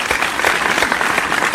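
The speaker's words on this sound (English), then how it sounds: "Come on, we're clapping." Loud, continuous clapping from a small group welcoming a new member, many hands overlapping into a dense patter that stays close and steady without a break.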